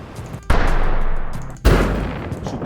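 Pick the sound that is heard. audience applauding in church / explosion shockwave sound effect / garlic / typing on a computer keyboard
explosion shockwave sound effect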